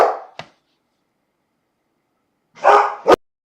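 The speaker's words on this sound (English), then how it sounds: "my dogs are barking" Dogs bark indoors in a few short, sharp bursts, one at the start and a closer pair near the end, separated by silence.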